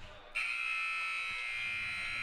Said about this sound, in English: There is the buzzer.